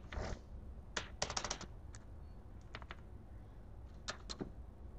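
C++ code being typed on a computer keyboard: quiet, sparse key clicks in short bursts and single taps against a faint room hiss, with no talking.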